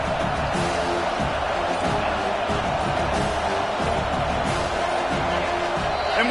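At a football stadium, a crowd roars in a dense, steady, loud wash of noise that continues without a break.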